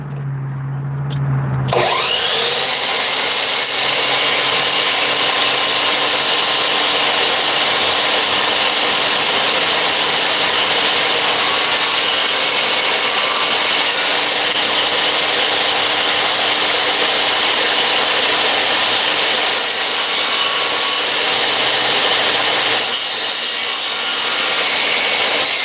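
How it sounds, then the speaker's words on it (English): Power saw cutting through wood in a workshop while building wood storage, a loud, steady buzzing whine that runs almost without a break for about twenty-five seconds after a short quiet start. "See, the saw is nothing to fear."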